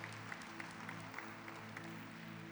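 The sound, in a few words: applause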